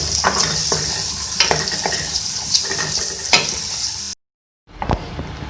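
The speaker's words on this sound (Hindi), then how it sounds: "मैं इसमें ऐड करूंगी हरी मिर्चें, इसको भी हम फ्राई कर लेंगे।" Green chillies sizzling and being stirred in a hot pan for an egg potato omelette, with loud steady frying and scraping stir strokes, then a sudden brief silence before the sizzle returns.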